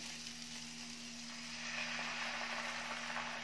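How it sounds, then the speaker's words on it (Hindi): Tamarind water poured into a hot pan for South Indian rasam sets off a soft, steady sizzle and bubbling frying noise, faint and continuous with a low hum underneath, and no one speaks. "अब इसमें इमली का पानी डालेंगे"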